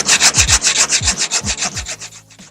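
Rapid, rhythmic hand sanding of surfboard resin, a steady back-and-forth scratchy rubbing close by that gradually slows and fades.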